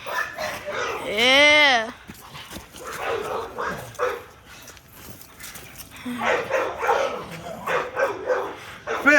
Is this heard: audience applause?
no